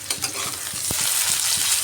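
Potato pieces frying in a pan until reddened, a continuous close sizzle with a regular patter of small crackles and one sharper knock, no talking.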